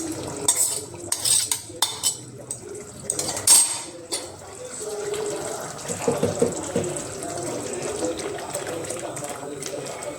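A spoon scrapes and clinks against a pot while village-style fish curry is stirred, giving several sharp metallic knocks early on and then softer, wetter mixing sounds. A voice speaks intermittently over the stirring.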